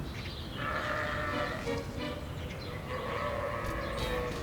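Sheep bleating in a rural farm setting: a steady run of overlapping bleats at moderate distance, carried over a constant low outdoor rumble with no talk.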